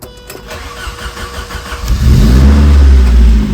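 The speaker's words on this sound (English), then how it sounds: "that starter sounded a whole lot different than the other one does" A new replacement starter on a Saab 900 cranks for about two seconds with a rapid whirring churn, then the engine catches and roars loudly to life, settling into a strong steady run close by.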